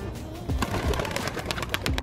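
Pigeons coo softly amid a busy outdoor backdrop, brief and low against steady ambient noise.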